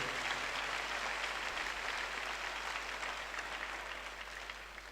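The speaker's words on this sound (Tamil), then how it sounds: "எல்லோரும் கரவொலி எழுப்பி அவர்களுக்கு நம்முடைய வாழ்த்துக்களை தெரிவிப்போம்." A large audience applauds at a jubilee celebration in Saveriyarpalayam, Dindigul, a dense steady wash of clapping that fades slightly toward the end.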